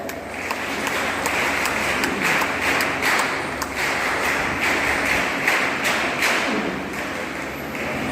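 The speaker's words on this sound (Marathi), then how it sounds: "सर्व सभागृहाने जोरदार टाळ्या वाजवून या चिरतरुण खेळाडूंसाठी आपण जोरदार टाळ्या वाजवू" Audience in a hall at a badminton court opening applauds steadily, a dense wash of many hands clapping loudly and continuously for the whole stretch without talk.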